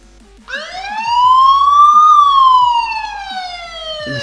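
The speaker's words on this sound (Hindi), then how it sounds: "जैसे ही मैं इस कैमरे के सामने कोई हिलती डुलती चीज़ लेकर के आऊँगा इसमें से सायरन की आवाज़ आएगी।" A cheap IP camera costing under Rs.1000 sounds its motion-triggered siren alarm: a loud, close electronic wail that sweeps up, peaks and slides back down, heard on its own without speech.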